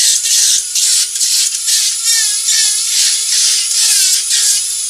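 A Dremel rotary tool fitted with a Kutzall burr grinds away wood on a carved wood spirit, producing a steady, loud, high-pitched whirring whine with slight wavering pitch and no talking over it.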